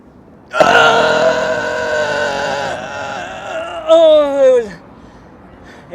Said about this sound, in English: it was just a burp.